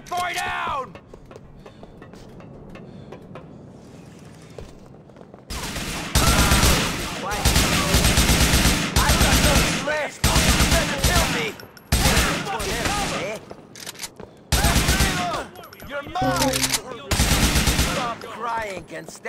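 Gunfire in the game GTA 4, with loud, sustained bursts of automatic fire in rapid volleys broken by brief pauses, alongside shouting voices.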